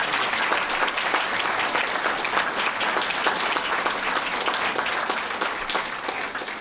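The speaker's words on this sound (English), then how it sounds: "give them a round of applause" An audience at a school board meeting applauds state champion track teams, a loud, continuous round of clapping heard on its own throughout.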